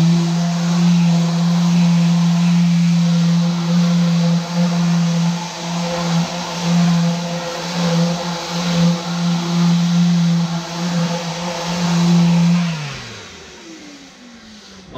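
Mirka Deros electric sander running on 120 grit Abranet for denibbing, a loud, steady, close motor hum with an even tone, winding down and fading near the end.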